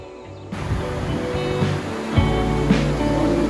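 Tangu river rushing beneath a suspension bridge on a mountain trek at about 2,900 metres in Nepal, a steady loud roar of flowing water that swells after a brief quieter start.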